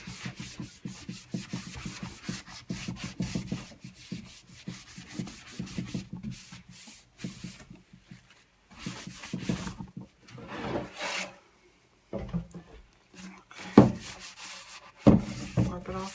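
Sandpaper rubbing back and forth over a painted wooden sign being distressed, a steady scratchy rasping in bursts with short pauses, fairly close, with a few louder knocks near the end.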